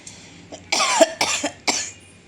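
Three or four sharp, close coughs in quick succession after a brief quiet start, each a short harsh burst.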